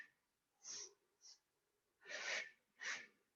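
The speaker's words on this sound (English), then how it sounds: "The breath is a sniff again" Sharp nasal sniffs drawn in during a slow Pilates flow, two short inhales followed by two longer, fuller breaths, close and fairly quiet with silence between.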